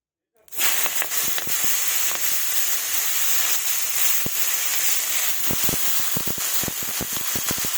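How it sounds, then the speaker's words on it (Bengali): Chopped vegetables (pumpkin, spinach, onion stalks, potato) dropped into hot oil left from frying fish, a sudden loud burst of hissing sizzle that stays strong and steady, with scattered sharp crackles and spatters, no speech. "এবার আমি সবজিগুলো ছেড়ে দেব।"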